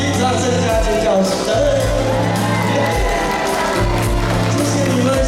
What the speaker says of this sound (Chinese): 给自己掌声加尖叫声！